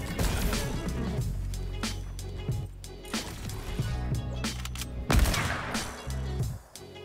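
Dense, continuous gunfire from a video game trickshot map, heavy booming shots and crashes layered over a constant roaring game soundscape with a strong low rumble.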